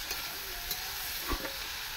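Potatoes fry in a pan in a village kitchen, a faint steady sizzle with occasional soft stirring clinks, quiet and continuous with no talk.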